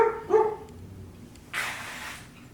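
A couple of short dog barks near the start, then a brief burst of broadband noise; otherwise fairly quiet.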